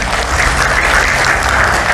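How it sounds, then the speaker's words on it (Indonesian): A crowd bursts into loud, dense applause for Gus Yakut, a continuous close wash of many hands clapping for two seconds with no speech over it. "Tepuk tangan untuk Gus Yakut."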